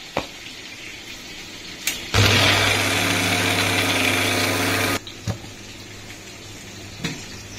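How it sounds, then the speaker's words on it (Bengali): A kitchen grinder whirs loudly for about three seconds as poppy seeds are blended with green chillies and a little water, with a few sharp knocks before and after the run. "এবারে আরেকবার পোস্তটাকে বেটে নেব।"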